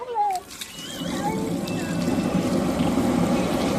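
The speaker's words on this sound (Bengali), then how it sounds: "তো এবার আমি জল দিয়ে দিই।" Water pours steadily into a cooking pot at a small home picnic, a continuous gushing trickle that builds and holds, with voices chatting faintly at the start.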